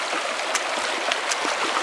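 Cold creek water flowing at a crossing on a family outing near Moab, Utah, a steady broadband rush with small splashes and trickles, close and continuous with no talk.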